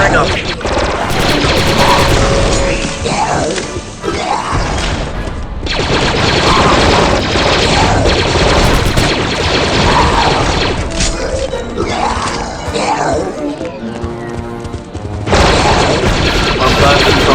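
Dense, loud battle din from the Star Wars Republic Commando video game, with rapid booming bombardment explosions and gunfire filling the clip almost without pause, while voices talk over it.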